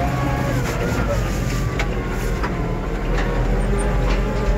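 A steady, loud drone fills a tractor cabin as a crop sprayer works behind it, a constant engine hum with faint rattling and jolting from the towed sprayer.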